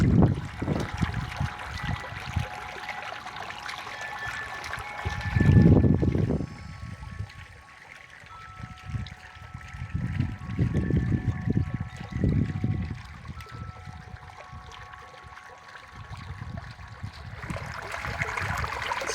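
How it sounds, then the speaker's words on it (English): Continuous trickling and splashing water from a garden fountain flows steadily throughout, with a few louder gurgling surges; no voices. "But yeah, the water is flowing."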